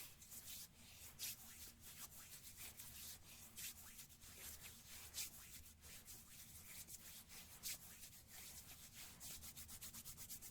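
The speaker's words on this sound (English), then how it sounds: "start to rub the hands like you were washing them." Hands rub briskly together as if being washed, a soft, close swishing friction in repeated strokes with occasional louder passes, alone and quiet.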